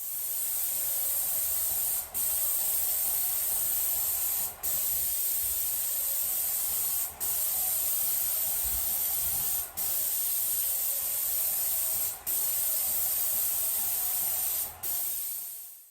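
A Graco airless paint sprayer applies water-based paint to a bedroom wall in a loud, steady hiss, broken by about six very brief regular gaps as the trigger is released between passes.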